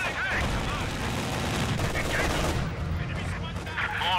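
Dense, sustained gunfire and machine-gun bursts in the WWII strategy game Company of Heroes 2, a steady battlefield din of rapid shots and explosions with faint voices underneath.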